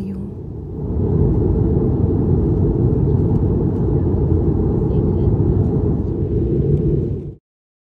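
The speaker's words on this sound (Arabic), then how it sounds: "وبدت الطائرة تطير وتحلق وتصعد فوق الغيوم." A large passenger jet roars steadily during takeoff and climb on a long-haul flight out of Toronto, a heavy, broad rumble heard from inside the cabin that swells early and holds loud until it cuts off abruptly.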